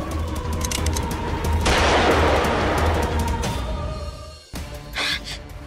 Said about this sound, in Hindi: किसने गोली चलाई?